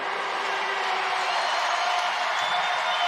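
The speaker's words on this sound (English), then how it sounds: "And the crowd goes crazy." A full house at Petco Park in San Diego cheering at a Savannah Bananas baseball game, a steady broad roar of voices and whoops held at an even level throughout.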